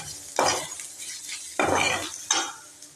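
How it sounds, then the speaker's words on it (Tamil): Mustard seeds, urad dal, green chili and ginger-garlic paste sauté in hot oil for a potato masala, with a low steady sizzle broken by three scraping stirs of a utensil against the pan. "கடுகு உளுந்தம்பருப்பு போட்டுட்டு பச்சை மிளகாய், இஞ்சி பூண்டு பேஸ்ட்டு எல்லாம் போட்டு நான் இப்போ வதக்கி விட்டுட்ருக்கேன்"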